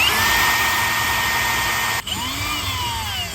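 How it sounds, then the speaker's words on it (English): Power drill boring a hole with a bigger bit for a wideband oxygen sensor install on a Holden Commodore/Chevy SS, a loud steady whine that briefly dips as the bit catches, then resumes at a shifting pitch. "now we just got to keep drilling with a bigger bit until we get to our size"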